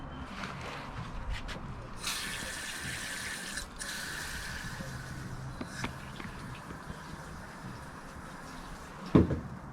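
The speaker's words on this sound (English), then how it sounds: "So I'm gonna rinse it with the water." Water rinses over a piece of dirty, dying moss on tree bark, giving a steady close splashing and running stream with a brief sharper clatter near the end.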